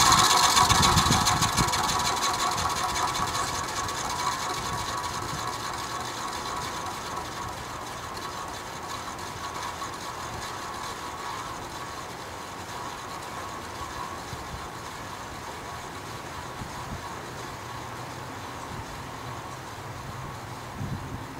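A vintage Penncrest 20-inch three-speed box fan coasting down from its low setting, a steady whirring hum with a faint mechanical rattle that slowly fades in loudness, heard alone.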